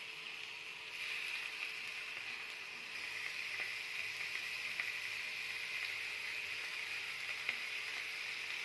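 Chicken hearts and gizzards hit a pan of softened onion for a liver-and-gizzard dish, giving a steady, fairly quiet frying hiss that carries on evenly with small crackles throughout.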